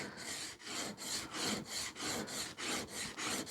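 A 100-year-old wooden hand plane blade rocked back and forth on a 400 grit stone, a close, rhythmic rasping scrape repeating about ten times in quick even strokes.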